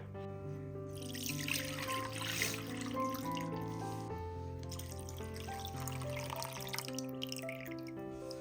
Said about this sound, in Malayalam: ഈ ഇളനീരിൻ്റെ വെള്ളം നമുക്ക് ഒരു ബൗളിലേക്ക് അരിച്ചൊഴിക്കാം